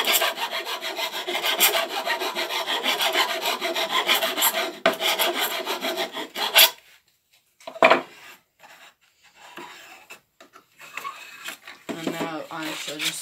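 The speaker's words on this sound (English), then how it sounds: "I have a completely round file, so I'm just going to file out inside here" Round file rasping inside the entrance hole of a wooden birdhouse held in a vise, a steady close scraping that runs for several seconds, then a few scattered rubs and knocks.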